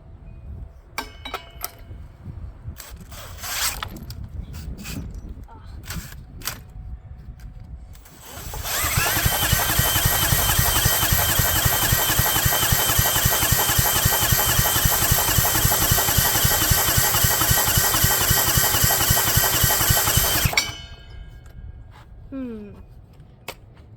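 A Kawasaki single-cylinder engine, unused for ten years, is cranked over in a revival attempt. A scattering of clinks and handling noises comes first, then a loud, rhythmic churning runs steadily for about twelve seconds and stops abruptly.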